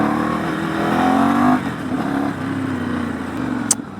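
A first ride on a lightweight Ducati motorcycle, its engine droning steadily and pulling harder in the opening seconds before settling, with a brief sharp click near the end and no talk.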